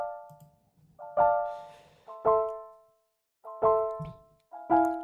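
A keys sound font in a beat production plays sparse chords with bright attacks that decay quickly. Five separate chord hits come at uneven intervals, with some faint low thumps between them. No voices are heard.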